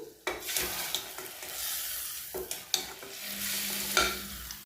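A garlic and red chili powder tempering is poured into cooked mixed dal, giving a loud hiss and steady sizzle with a few stirring scrapes, close and continuous without voices.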